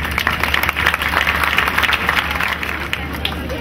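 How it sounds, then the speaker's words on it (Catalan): A crowd claps and murmurs together at a pageant proclamation in Vilassar de Mar, a continuous wash of applause mixed with background chatter and babble. "Un fort aplaudiment"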